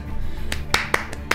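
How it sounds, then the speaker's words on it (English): Hands clap a few times, sharp and close, spaced irregularly over a low steady background hum. "Clapping, yeah, woo!"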